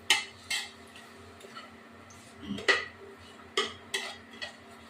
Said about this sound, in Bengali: এবার এটা নাড়া দেব